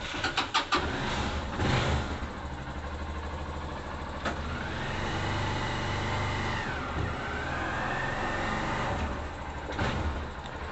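A 150cc carbureted motorcycle with a modified camshaft accelerates, its engine droning and rising in pitch, dipping at a gear change and climbing again, steady and fairly close with no talking.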